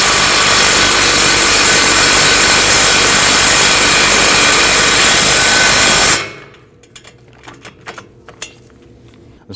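A loud, continuous mechanical grinding rasp runs for about six seconds while a bolt is driven home on a 2009-2017 Volvo XC60 front wheel hub, then cuts off abruptly, leaving a few faint scattered knocks.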